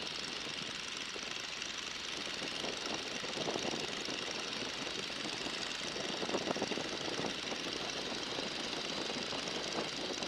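Boeing Stearman biplane radial engine droning steadily in flight, a continuous rough, knocking mechanical roar with wind noise, even and unbroken throughout, no voices.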